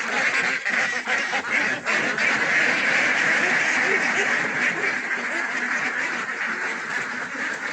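Roughly three-and-a-half-month-old ducks on a duck farm make a constant dense chorus of quacking near and far, loud and unbroken for the whole stretch.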